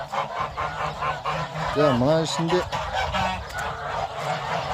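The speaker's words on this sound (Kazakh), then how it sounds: "Домашний қаздар." Domestic geese on a farm, a flock of ganders and females, honk loudly and close in repeated nasal calls over a noisy background, while a person speaks briefly.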